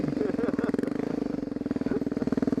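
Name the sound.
TTR 250 dirt bike engine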